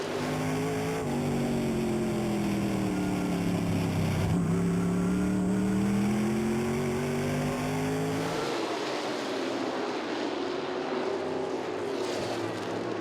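Modified race cars roar around Southside Speedway, engines whining and shifting pitch as they pass close, then the sound drops into a rougher, more distant drone.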